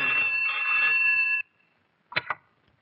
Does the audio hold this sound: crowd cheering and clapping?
no